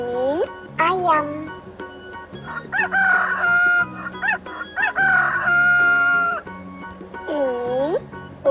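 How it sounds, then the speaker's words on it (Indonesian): A rooster crows several times in loud, close, drawn-out calls, with chicken clucks and other farm-animal calls mixed in between. "Ini ayam."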